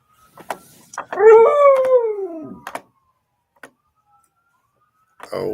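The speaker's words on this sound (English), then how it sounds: "we got sirens going off and the dogs going off" Dogs howl in a long drawn-out wail with a few short barks around it, fairly close; no clear siren stands out, and a person's voice comes in briefly near the end.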